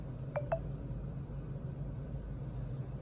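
A phone notification goes off, two quick electronic beeps in close succession near the start, followed by steady low background noise.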